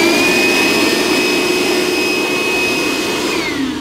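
A cordless vacuum cleaner used for car interior cleaning runs with a loud, steady high-pitched whine and airy roar, close and unbroken, its pitch dipping slightly at the very end.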